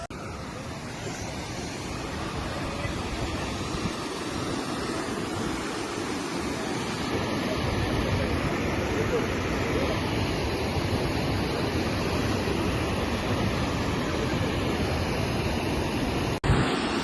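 Kumbe waterfall gives a steady, broad roar of rushing water. It is close and constant, mixed with wind buffeting the microphone, and no one speaks.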